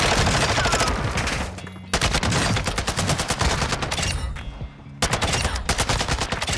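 Rapid automatic fire from a TAC V rifle in the Warzone 2.0 video game, loud dense bursts of shots broken by two brief pauses, close and punchy with no talking.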